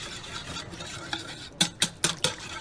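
Salad dressing for a warm beetroot salad being stirred with a utensil against a bowl, a steady soft scraping followed by four distinct clinks and swishes near the end, close and fairly quiet with no talk.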